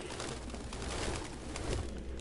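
Pigeons coo in soft, low, rolling bursts close by, set against a steady hiss of background noise.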